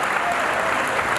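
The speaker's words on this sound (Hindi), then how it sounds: "बड़ी कमजोर ताली में सुन रहे हैं" A brief burst of audience applause at an Imran Partapgarhi poetry recital, a crowd clapping at an even level for about a second with no voices over it.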